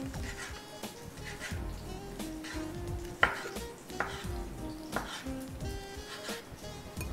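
A knife chops salami repeatedly on a cutting board, irregular thuds and clicks amid kitchen clatter and a soft background sizzle.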